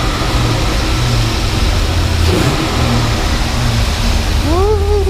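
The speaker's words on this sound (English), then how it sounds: "I'm gonna give her a couple revs and see if we can see a difference." A Corvette C5/C6 V8 idles with a deep rumble, then gets a sharp rev that rises and falls near the end, close and loud, after a new AMT Motorsports engine mount install.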